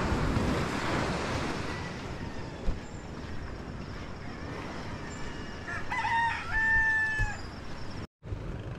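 Sea waves wash steadily onto a beach in a continuous broad surf roar with some wind, while a rooster crows a few times partway through.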